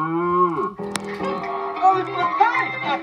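A cartoon cow lets out a long, loud moo that bends downward, then a voice speaks over lighter background music and effects.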